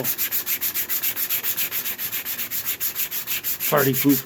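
Steady back-and-forth scraping of a sanding block on a wooden cheese board, a rhythmic rasp repeating about twice a second, with a brief voice near the end.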